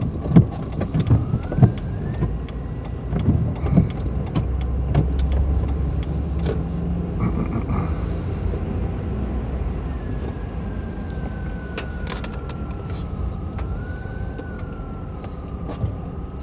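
A car on the move, with a steady low rumble of engine and road noise throughout and a thin wavering whine rising and falling in the background; no one speaks.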